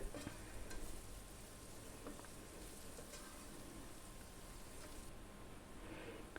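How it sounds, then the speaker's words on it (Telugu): Fried onions with green chilies and turmeric being stirred in a pan for a restaurant-style mixed vegetable curry: a quiet, continuous sizzle with a few light scrapes and taps of the utensil. No talking. "ఇప్పుడు రెండు మూడు పచ్చిమిర్చి ముక్కలు కొంచెం పసుపు వేసి మొత్తం అంతా బాగా కలుపుకోవాలి"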